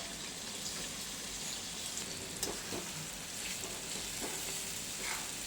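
Chopped onion hits hot oil with asafoetida in a pan and sizzles steadily, with a continuous frying hiss and a few small pops and stirring clicks close by.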